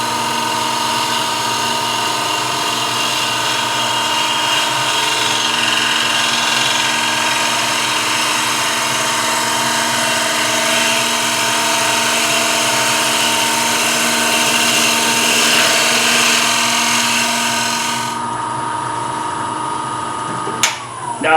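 Steady mechanical whir of a spinning wood lathe with a cutting tool scraping a wooden platter in a cleanup cut, continuous and loud, then abruptly dropping off near the end.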